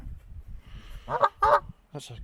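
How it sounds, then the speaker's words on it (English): A Canada goose honks outdoors on a walking path, giving two loud, close calls in quick succession followed by a fainter third honk over low background rumble. "I think that's a Canada goose."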